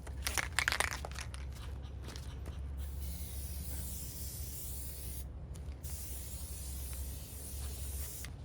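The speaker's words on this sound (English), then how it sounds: "I think I'm gonna knock that white back a little bit with just a little black spray paint and brown spray paint" Black and brown spray paint hissing from a can onto a Halloween prop, with rattling and crinkling handling noise at the start, then a long, steady spray with brief pauses.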